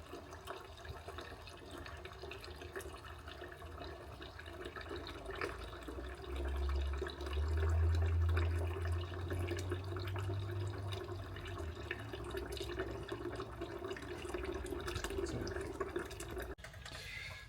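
Water pours steadily from the open core plug hole of a 2010 Mini automatic engine into the sump, a continuous low gushing that swells in the middle and then settles into a constant flow.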